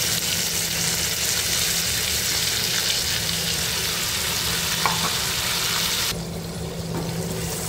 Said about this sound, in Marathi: हे व्यवस्थित तेलात परतून घ्यायचे।